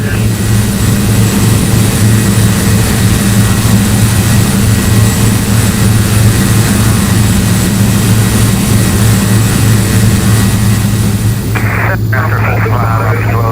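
A Beech King Air in flight, its engines making a steady, loud, unbroken drone inside the cabin for the whole stretch, with a slight change in tone near the end.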